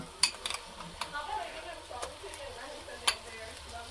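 Onion going into hot masala in a pan, a soft sizzle under scraping, clinking stirring with a spoon, close and moderate in level, with occasional sharp taps of metal.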